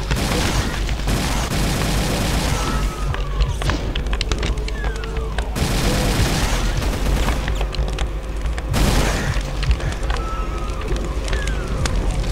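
Rapid plasma gun fire in Brutal Doom, a dense stream of shots punctuated by booming explosions and sweeping tonal whines, loud and continuous across the stretch.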